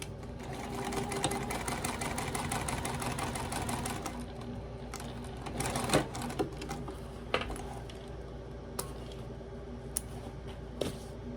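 A sewing machine stitches under a card slot on a small fabric wallet, a fast steady run of needle clatter for a few seconds, then slower, quieter stitches and scattered clicks.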